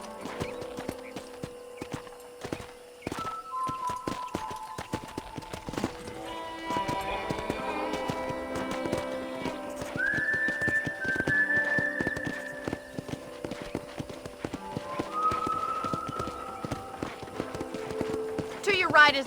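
Rhythmic clip-clop of horse hooves at a steady gait over a bed of music, continuing throughout, while riding around a ranch in the video game Red Dead Redemption.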